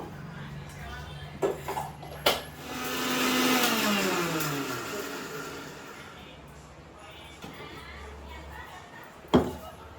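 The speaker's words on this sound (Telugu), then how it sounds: "ఇప్పుడైతే ఇది మిక్సీ పట్టుకుందాము" A mixer grinder whirs through a ridge gourd peel chutney in a home kitchen, a smooth rising-and-falling motor drone of several seconds, with clinks of utensils before and a sharp knock near the end.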